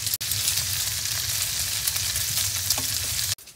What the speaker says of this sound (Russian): Сало перетапливаю на печке.